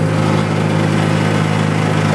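A car with a high-compression (about 13:1) engine, big cam, low gears and close-ratio box drives in third gear, giving a loud, steady, harsh droning hum with constant vibration and no talk.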